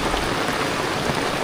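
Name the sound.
heavy typhoon rain falling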